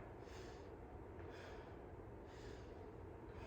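Heavy, rhythmic breathing during a yoga flow with light weights, close and steady, with several long breaths in and out repeating in a slow pattern and no talking.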